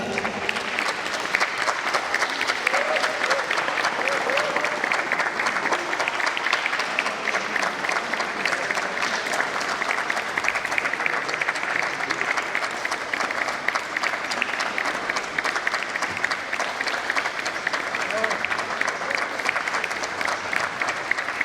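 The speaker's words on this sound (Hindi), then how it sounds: "जोरदार तालियां." Sustained applause from a large audience at a badminton tournament closing ceremony, steady and dense for the whole stretch, with a faint murmur of the crowd beneath.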